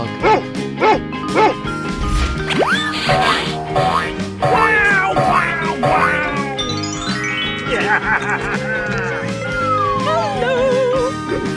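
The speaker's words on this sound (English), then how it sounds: "Dog." In a 3D animal slide video game, a cartoon dog yips and barks in short repeated bursts amid springy boing effects and busy game music.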